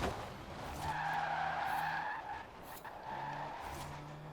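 An electric drift car slides sideways in Forza Horizon 4, its tires squealing in two long sustained skids with a brief lull between them, carried under a steady electric motor whine.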